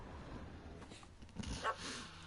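A dog in The Witcher 3 game lets out a brief whimpering yip amid background game ambience, the cry rising near the middle of the short clip with no talking.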